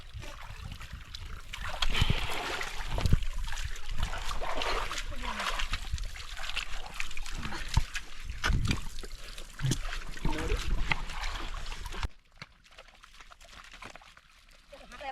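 People wading across a strong river, with a rushing, splashing flow of water and irregular heavy splashes close by, while voices talk over it; the churn drops to a quieter hiss near the end.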